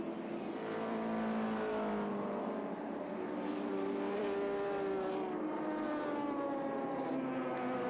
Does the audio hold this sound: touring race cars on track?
yes